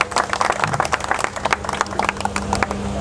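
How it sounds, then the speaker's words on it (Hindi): An outdoor protest gathering breaks into loud, uneven crowd clapping, a dense patter of many hands close by with a steady low hum underneath. "तालियां।"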